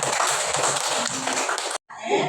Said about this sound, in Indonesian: Tepuk tangan sekali lagi ya.